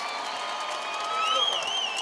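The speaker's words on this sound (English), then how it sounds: "let's have a round of applause for these 2 middleweight warriors" Crowd applause and cheering for two middleweight bare-knuckle fighters at a BKFC event, a steady wash of clapping and crowd noise with whistles and tonal sounds layered over it, moderately loud throughout.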